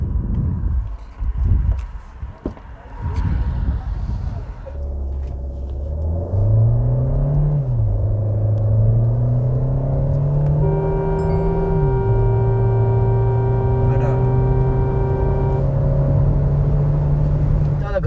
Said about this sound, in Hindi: हम आपको दिखाते हैं कि 0 से 100 किलोमीटर कितनी सेकंड्स में हम पहुँच पाते हैं